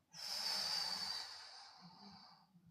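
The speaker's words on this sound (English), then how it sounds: "breathing out as you come up" One long audible exhale through the nose during a ground-flow mobility exercise, close and breathy, easing off gradually over a few seconds.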